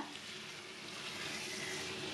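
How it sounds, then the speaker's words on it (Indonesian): Beef rendang sizzles and fries in a pan while being stirred, a steady soft crackling hiss that stays even and close throughout, with no talking. "Diaduk supaya berubah warna si rendangnya ini biar dagingnya agak pucat dulu."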